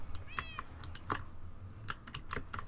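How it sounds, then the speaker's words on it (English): A cat meows in the Minecraft video game, a short, faint mew amid quick clicks of computer keyboard typing. "There's a cat over here."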